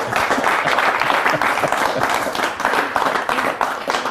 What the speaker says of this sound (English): Let's give David a big round of applause